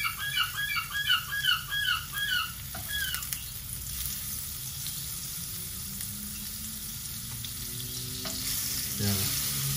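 Marinated bone-in lamb belly sautéing in butter for caldereta, with a steady frying sizzle and a few stirring scrapes and clatters near the start, the crackle continuing evenly to the end.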